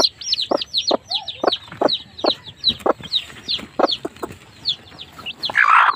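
A hen at her nest in a rural Bohol, Philippines farmyard, clucking in a close, steady series of short repeated calls, ending in a brief rustling burst.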